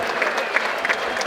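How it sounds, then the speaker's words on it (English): Strong applause around a football ground as the Bath City team runs onto the pitch, a dense, continuous wash of many hands clapping at a distance, with faint crowd murmur mixed in. "There's strong applause all the way around this ground"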